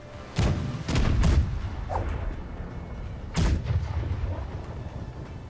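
Several heavy ship cannon blasts in the game Blackwake boom in irregular succession from a hoy's left side, with a couple of sharper shots and rumbling echoes between them.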